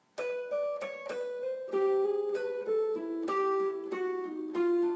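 Slowed-down guitar lick descending chromatically in thirds, about eight distinct clean plucked notes at an even, deliberate pace, close and unaccompanied.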